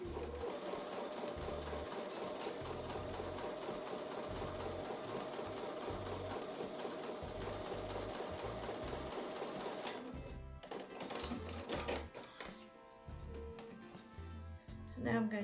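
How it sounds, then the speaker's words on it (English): A sewing machine runs steadily with a rapid mechanical chatter for about ten seconds, sewing a 1/4 inch quilt block seam, then slows and stops amid clicks and handling noises. "I'm going to take those over to the sewing machine and sew with a 1/4 inch seam"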